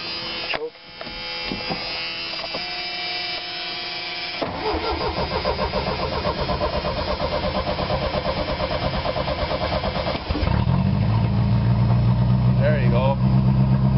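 A Dodge Dakota truck engine cranks with the choke on, catches and settles into a loud, steady idle close by, with a brief voice near the start and the revs jumping up near the end.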